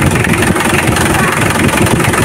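A motorcycle or car engine idles steadily right after starting, a close, loud and even running sound with a constant low rumble and no gaps, the sound of an engine warming up.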